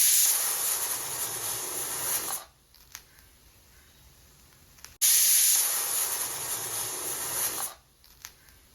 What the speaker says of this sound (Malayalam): അത് നമ്മൾ കുക്കറിൽ ഒരു 1/2 ടീസ്പൂൺ മഞ്ഞൾപ്പൊടി, ഒരു 1/2 ടീസ്പൂൺ ഉപ്പും കൂടെ ചേർത്ത് നമുക്ക് കുക്കറിൽ വേവിക്കാൻ വയ്ക്കാം.